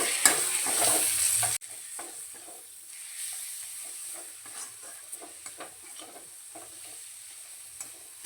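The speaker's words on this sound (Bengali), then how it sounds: "সমস্ত মশলা একসঙ্গে ভালো করে কষিয়ে নেব" Ginger-garlic paste, turmeric, cumin and coriander powder being sautéed together in a pan for a snail and potato curry, opening with a loud hissing burst, then a quieter steady sizzle broken by light spoon scrapes.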